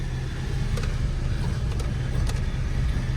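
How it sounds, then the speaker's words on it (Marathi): Cars pass on a roadside stop near a vada pav stall, their engines giving a steady, moderately loud rumble with no talk over it. "दोन गाड्या चालल्या."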